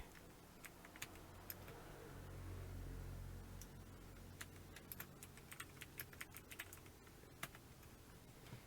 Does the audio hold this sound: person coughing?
no